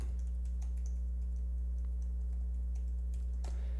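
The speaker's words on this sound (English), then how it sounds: "and so I have to type in a password." A password being typed on a computer keyboard, quick light key clicks in short irregular bursts, quiet and close, over a steady electrical hum.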